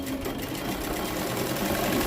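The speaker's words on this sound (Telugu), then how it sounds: "ఇది కూడా డబుల్ కుట్టు వేస్తున్నాను." A sewing machine runs steadily for about two seconds, laying a double line of stitching on a jacket, its motor hum and rapid needle chatter continuous and close.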